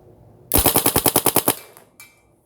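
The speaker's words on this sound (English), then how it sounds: "We'll fire a little burst." A Bob Long VIS paintball marker fires a quick burst of about ten sharp, evenly spaced pops, loud and close, followed by a brief faint clatter and a second, softer hiss-like sound.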